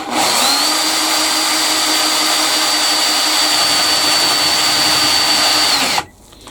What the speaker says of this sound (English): Right, we're going to start with drilling.